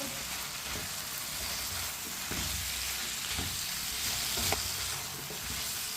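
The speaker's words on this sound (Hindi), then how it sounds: "अब इसे 2 मिनट के लिए ऐसे ही चम्मच चलाते हुए पका लेंगे" Green beans frying in a pan while stirred with a spoon, a steady close sizzle with repeated soft scraping strokes, no voices.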